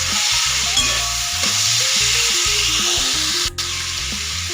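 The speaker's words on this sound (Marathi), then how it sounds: "ते आता याच्यामध्ये टाकून आपल्याला परतून घ्यायच्या।" Pieces of ridge gourd are stir-fried in hot oil with a steady close sizzle, while a spatula scrapes the pan in a choppy, repeating rhythm and gives one sharp knock near the end.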